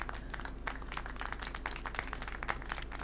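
Characters clap in the video game Syberia: The World Before, a faint, steady patter of quick hand claps running throughout under low background sound.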